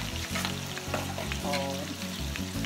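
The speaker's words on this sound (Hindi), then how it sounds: "साबुत लाल मिर्च डालेंगे" Whole dried red chillies frying in oil for a Pakistani fish curry, a soft steady sizzle with crackles and occasional stirring scrapes, close but fairly quiet, under a low repeating background hum.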